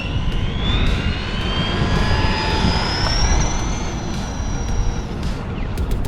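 An RC car with an Orbital 2 brushed motor, a DT-02 chassis, runs steadily, its high whine gliding up and down in pitch as it speeds along and lets off, close and loud throughout with no talking.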